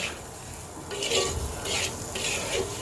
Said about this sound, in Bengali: এইবার আমি আলু মশলা সব কিছু একসাথে খুব সুন্দর করে ভাজা ভাজা করে নেব